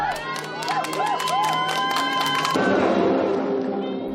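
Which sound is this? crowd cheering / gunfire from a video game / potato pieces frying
crowd cheering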